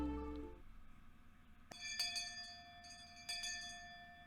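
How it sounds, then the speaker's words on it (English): A bell rings in the Higurashi visual novel, several clear metallic strikes with long ringing tones that sustain and overlap, set apart from the quiet background. "Just then we heard a bell, far away, marking the end of our lunch break."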